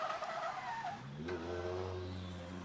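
A Formula Drift car rips through the finish at Okuibuki Motorpark in Japan during qualifying. Tires screech at first, then the engine roars up in pitch and holds a loud, sustained high rev. The car sounds close and loud.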